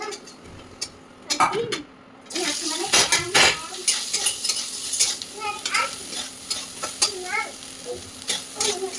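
Potatoes with spices are stirred in a hot pan, giving a steady sizzle under repeated scraping strokes of a utensil against the metal. Someone talks briefly in the background.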